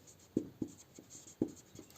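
Marker or chalk writing on a board during an accounting lesson in a quiet room: a few distinct taps and short strokes at an irregular rhythm, close and faint.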